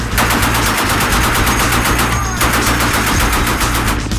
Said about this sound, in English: Despite the rocky shooting conditions, the bullets find their target.